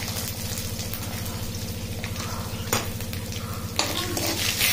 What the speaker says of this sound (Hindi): कड़ी पत्ता दाने सब फ्राई हो जाए तेल में।